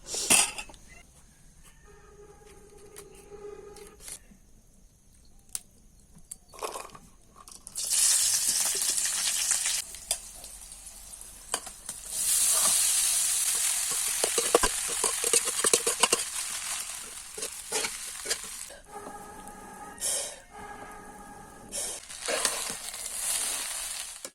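Leftover cooked rice tossed into hot tempering oil in a village kitchen, a loud hissing sizzle after quieter clinks of utensils, with stirring and scraping of the pan.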